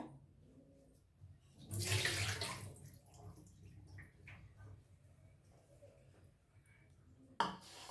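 Water poured off eggplants that were soaking in a kitchen vessel: a loud, gushing pour swells for about a second, then trails into quieter trickling and handling sounds, ending with a sharp knock.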